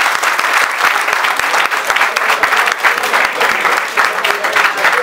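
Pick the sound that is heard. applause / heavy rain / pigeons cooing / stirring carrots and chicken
applause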